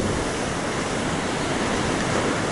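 Sea waves surge against a coastal boardwalk path on a rugged stretch of shoreline, making a steady, loud, full roar of rushing water with no breaks and no voices.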